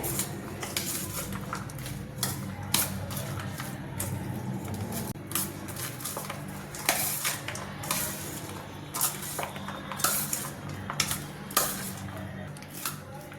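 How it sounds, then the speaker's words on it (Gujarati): Pav chaat mixture being stirred in a bowl, giving repeated scraping and clinking of a utensil against the bowl at an uneven rhythm over a steady low kitchen hum, close and moderately loud, with no talk. "આવી રીતે બરાબર હલાવી લેવાનું છે"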